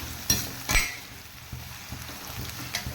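Garlic frying in a pan for garlic pickle, a close low sizzle with a couple of sharp utensil scrapes and soft stirring taps.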